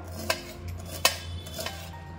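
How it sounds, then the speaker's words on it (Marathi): Knife chopping taro leaf stems finely on a board: three spaced, sharp taps over a steady low hum, fairly quiet and close. "आता याला थोडंसं बारीक असं कट करून घ्यायचं आहे आपल्याला"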